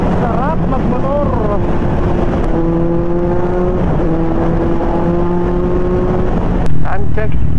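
Motorcycle ride at night, a steady engine drone with wind rush against the microphone and pitch rising and falling as the rider shifts and accelerates, close and loud throughout.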